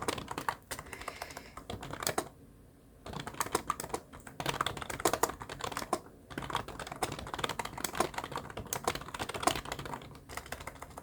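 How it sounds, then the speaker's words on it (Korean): Rapid, continuous clatter of keys on a computer keyboard, typed steadily in bursts with brief pauses, close and fairly loud, no voices. "제가 이 타자기를 무음으로 바꿔야 되겠어요. 여러분들 좀 같이 입력하시는 분들은 좀 시끄럽지 않을까 싶습니다."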